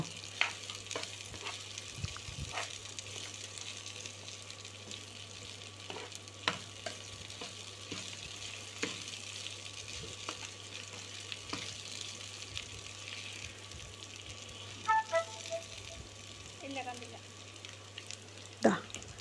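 Ajwain and nigella seeds sauté in hot oil for a brinjal curry: a continuous soft sizzle with scattered clinks and scrapes of stirring, then a brief cluster of louder tapping near the end.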